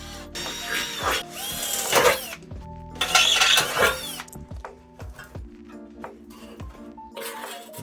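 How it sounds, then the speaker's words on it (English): A drill bores out stubborn old rivets on a BMW R45 motorcycle seat, close and loud, with several short whining bursts separated by clicks, knocks and brief pauses. "Some refused to leave, so out came the drill."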